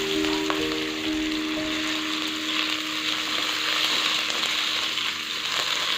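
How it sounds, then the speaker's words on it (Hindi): Lengthwise-cut potatoes frying lightly in leftover oil in a pan, giving a steady close sizzle that holds evenly throughout, with a short tonal whine near the start and no speech. "तो अब इसको हम इसी तेल में, जो बचे हुए तेल में, हमने इनको भी हल्का सा फ्राई कर लेना है।"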